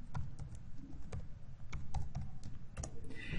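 Fingers type rapidly on a computer keyboard while entering a spreadsheet formula in Excel, producing close, quiet, uneven clicks with no voices.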